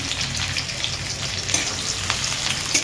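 Onions and vegetables fry hard in a pan, a dense, continuous sizzle with a few sharper crackles and pops, close and loud, with no voices.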